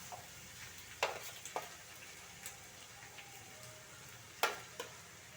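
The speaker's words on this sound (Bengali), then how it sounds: "এরপরে আমি দিয়ে দেবো এর মধ্যে মাছগুলো।" Fish already coated in salt and turmeric fries in a pan, giving a faint, steady sizzle punctuated by a few sharp utensil clicks.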